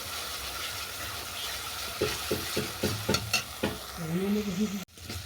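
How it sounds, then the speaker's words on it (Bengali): Ground spice paste hisses gently in a hot pan, then a run of sharp spoon-on-pan scrapes and knocks sounds close by, followed by a brief watery gurgle before an abrupt cut. "বাটনাটাকে আমি হালকা করে ভাজবো, ওই 1 মিনিটের মতো ভেজে নেবো আর কি।"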